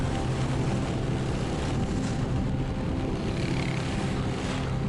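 Steady, loud engine drone with heavy wind rush from a motorbike moving at a constant speed along a mountain road in Bali.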